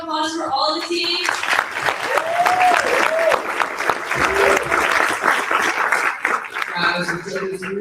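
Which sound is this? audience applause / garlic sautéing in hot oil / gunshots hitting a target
audience applause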